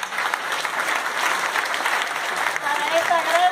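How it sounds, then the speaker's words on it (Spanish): An audience at a school graduation ceremony applauds loudly and steadily, a dense wash of clapping that holds for a few seconds with faint voices mixed in. "Fuerte el aplauso"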